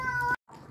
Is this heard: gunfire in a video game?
no